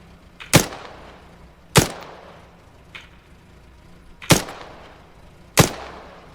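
Rifle gunshots in the Arma 3 video game ring out as five loud, sharp cracks spaced about a second apart, each trailing a short echo, with a fainter shot between them.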